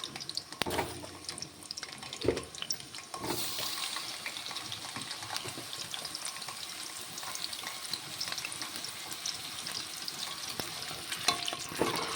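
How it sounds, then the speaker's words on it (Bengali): Potatoes frying in mustard oil in a hot kadai give a steady, low crackling sizzle that runs the whole way through. Occasional sharper pops and stirring clatters rise above it. "প্রথমেই কড়াই গরম করে এর মধ্যে দিয়ে দেওয়া হয়েছে সর্ষের তেল এখন আলুগুলোকে আগে ভেজে নিতে হবে"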